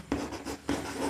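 Pen scratching on paper while a maths answer is written out: two short scratchy strokes, close and clear, with no talk.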